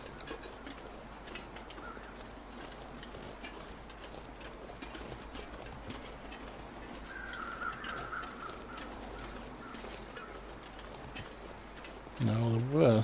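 Crows cawing in The Long Dark survival video game, faint distant calls over a steady wind-like ambient bed, with a louder low thump near the end.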